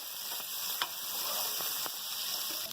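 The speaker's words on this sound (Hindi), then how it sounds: "प्याज के साथ कलेजी को फ्राई करेंगे।" Steady sizzling of goat liver frying with onions in a pan, a continuous hiss with a few faint clinks from stirring, no talking.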